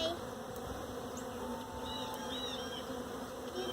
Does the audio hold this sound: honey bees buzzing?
yes